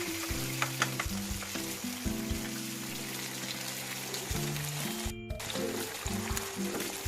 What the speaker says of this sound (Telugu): బిర్యానీ ఆకు, లవంగం, యాలుక్కాయ, సాజీరా, దాల్చిన చెక్క వేసుకొని వేయించుకోవాలి.